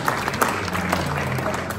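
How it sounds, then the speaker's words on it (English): Audience at a vintage guitar show applauding the jury, a dense burst of clapping from a crowd indoors, steady and fairly loud for a short moment. "A last applause for them."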